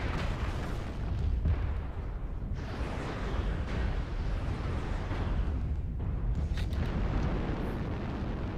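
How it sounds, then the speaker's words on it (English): An artillery strike in the video game MechWarrior Online: a dense, continuous barrage of booming explosions and rumbling blasts, loud and sustained throughout with no pauses. "Artillery strike online."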